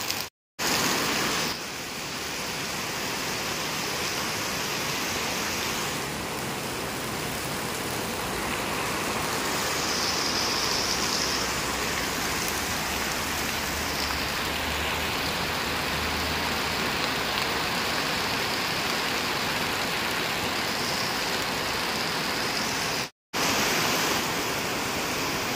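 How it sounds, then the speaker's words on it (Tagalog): Heavy rain pours in a dense, continuous roar that stays loud and unbroken throughout, growing slightly fuller partway through. "palakas na palakas po ang ulan"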